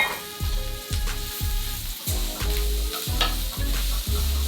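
Baby spinach wilting in a hot pan with peppers and shallot, sizzling steadily while a utensil stirs in repeated rhythmic scrapes and thumps, close and clear, no talking.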